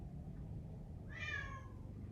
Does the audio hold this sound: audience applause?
no